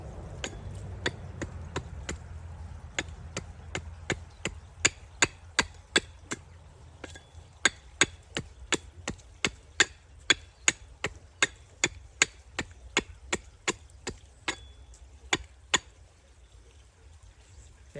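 A wooden spoon blank being struck on top while it is split, sharp knocks coming in a steady run of roughly thirty evenly spaced hits, fairly close and clear over a quiet background, with no talking.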